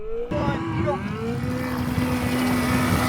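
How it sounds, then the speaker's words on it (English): Electric motorcycles launch from a stop in a drag race, their motors rising in a climbing whine over rushing wind noise after a brief quiet start, loud and close, with a voice briefly heard. "Let's do a little drag race from a stop to see the torque difference"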